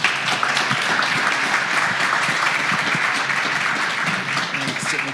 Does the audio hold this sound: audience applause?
yes